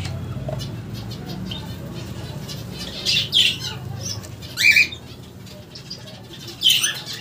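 Pet lovebirds in a cage let out several sharp, loud squawks in bursts over a low background rumble, with brief flutters between calls.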